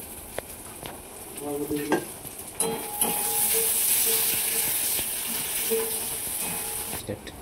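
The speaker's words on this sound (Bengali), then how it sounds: "ফার্স্ট পেঁয়াজগুলো ভেজে নেব, ভালো করে ভেজে নেব।" Chopped onions fry in a pan with a steady hiss of sizzling oil, broken by scraping stirs and a few clinks. The first couple of seconds are quieter before the frying noise swells and holds.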